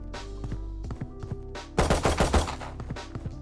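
Rapid automatic gunfire in the video game Valorant, a short string of shots, then a pause and a faster, louder burst of closely spaced shots, heard up close with no talking.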